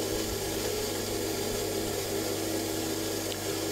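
A power tool grinding a piece of agate stone, a steady unbroken whirring drone that holds at an even, fairly loud level from start to finish with no voices.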